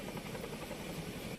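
Helicopter flying over remote earthquake-damaged communities in Morocco's High Atlas Mountains during rescue operations, a steady continuous rotor and engine drone throughout, fairly loud and unbroken, no voices.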